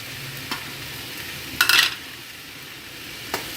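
Parotta being stir-fried with masala in a pan for egg kothu parotta, giving a soft steady sizzle with a few metal scrapes and clinks from stirring, no voices.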